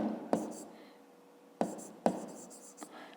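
A pen or pencil scratching on paper while a fifth-grade math exercise is worked out by hand, heard as a few short, close scrapes and taps with quiet gaps between them.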